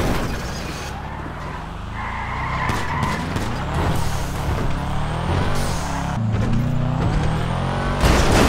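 A car in GTA roleplay, engine roaring with tire skids and road rumble, loud and continuous with harsh bursts of motion and scraping over about eight seconds.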